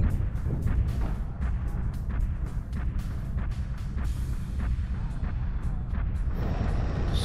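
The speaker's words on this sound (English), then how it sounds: "Tank strike initiated." Tank strike in a mech combat video game: heavy, rumbling booms and sharp blasts pound continuously over a dense low roar, with repeated impacts layered together and no voices heard.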